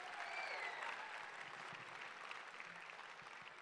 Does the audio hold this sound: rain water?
no